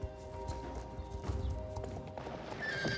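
A horse in the Star Stable video game performs a reining sliding stop, its hoofbeats clopping steadily over a constant layer of game music and ambience.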